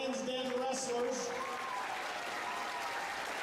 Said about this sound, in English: So how about a big round of applause for the Lions Den wrestlers?